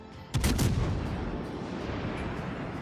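A heavy battleship gun barrage booms out in World of Warships Legends on PS4, a sudden loud burst of several overlapping shots followed by a long rumbling decay with no talk.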